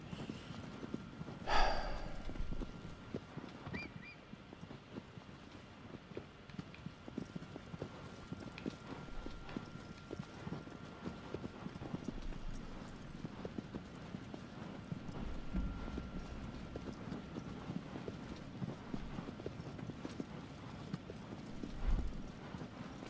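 A horse gallops in the PS4 remake of Shadow of the Colossus, with a steady run of rhythmic hoofbeats throughout, a brief neigh near the start and faint surrounding game sounds.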